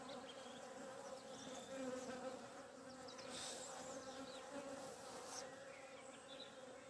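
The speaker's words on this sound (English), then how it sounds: "As bees come in, bees go out." Honey bees flying around apiary hives in Ireland in April, a dense, continuous buzzing hum from many insects coming and going, fairly quiet but steady, with individual bees passing closer now and then.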